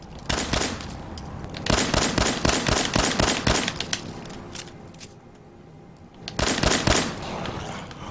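Gunfire from the Fallout 4 video game, rapid bursts of shots in quick clusters with a short lull before another burst, loud and close, with no talking.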